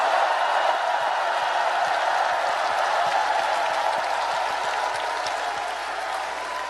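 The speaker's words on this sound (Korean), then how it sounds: "우리 두 분 후보님께 뜨거운 격려의 박수를 부탁드립니다." Steady, dense applause from a large crowd at a party convention honouring two candidates, loud and sustained throughout with no speech over it, easing slightly toward the end.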